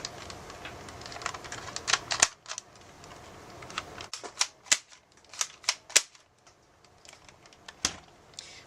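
Modded Maverick toy gun firing: sharp, dry plastic snaps and clicks in irregular bursts, several close together, with quieter mechanical handling between shots.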